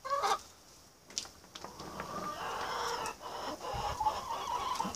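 Chickens cluck and murmur nearby in short, scattered calls over a soft background rustle.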